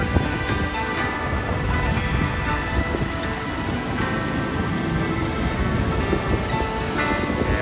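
Ocean surf at Peggy's Cove, Nova Scotia, washes in a steady broadband roar, loud and continuous, mixed with wind buffeting the microphone.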